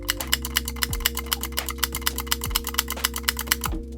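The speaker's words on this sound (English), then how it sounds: "It has a nice clicking sound when pressed as well." A metal button on a GAMMAC MUSE-ON rhythm-game controller is pressed over and over, giving crisp, close, evenly paced clicks with a steady low electrical hum underneath.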